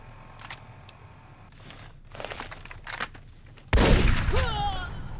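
Grenade launcher fire in Fallout: New Vegas, Honest Hearts DLC: a few faint pops and thuds give way to one loud, close blast that lingers as a rumbling, crackling roar.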